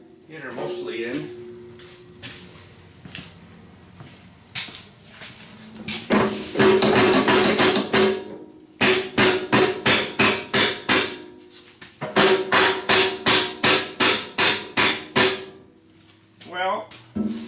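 Repeated dull rubber mallet taps on a 110 TLB backhoe hydraulic cylinder during a rebuild come in quick bursts, sometimes in rapid rhythmic runs, close and fairly loud, with brief pauses between series.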